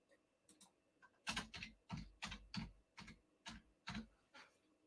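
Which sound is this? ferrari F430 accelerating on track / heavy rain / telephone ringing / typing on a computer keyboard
typing on a computer keyboard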